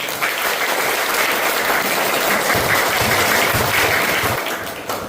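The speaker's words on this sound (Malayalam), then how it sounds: "എന്നാ റൊണാൾഡോ ഫാൻസിന് ഒന്ന് കൈയടിക്കും ഉറക്കെ." A school audience at a radio station inauguration claps loudly and steadily for several seconds, a dense burst of applause that tapers off near the end.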